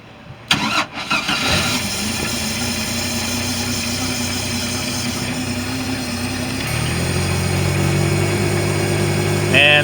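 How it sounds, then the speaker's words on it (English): A Chevrolet Tahoe with a starter issue and its kill switch pulled cranks over steadily for several seconds without catching, the starter drone running continuously and shifting pitch partway through. "So go ahead and turn it over a few times."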